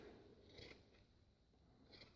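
Scissors snip around a large yarn pom pom being trimmed by hand, giving two faint, brief cutting bursts with quiet pauses between them.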